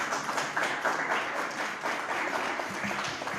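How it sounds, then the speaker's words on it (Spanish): Audience applause at a community university workshop, a steady wash of clapping from many hands at moderate, even volume throughout. "Un aplauso."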